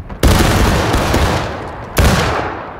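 A line of soldiers fires a loud musket volley in War of Rights. One ragged crash of shots rolls out and fades, and a second sharp burst of fire follows near the end.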